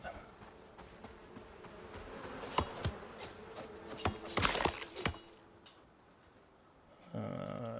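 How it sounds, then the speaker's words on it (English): Bees buzz steadily around a bee tree in the survival video game Icarus, a continuous drone with sharp clicks and ticks layered over it before the hum thins out near the end. "I hear a bee tree, so let's go and get that."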